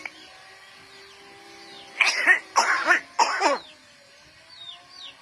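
A woman coughs in three loud, close bursts, harsh and rasping, after a quiet stretch of room tone with faint chirps in the background.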